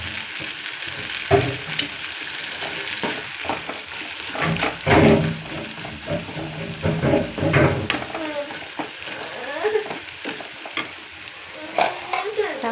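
Masala spices frying and being stirred in a pan for a Telugu birakaya pulusu (ridge gourd curry), with steady sizzling and repeated scraping stir strokes close up, no voices.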